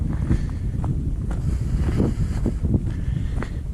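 Wind buffets the microphone in rough, low rumbling gusts outdoors at a former WWII airfield, joined by a few crunching steps.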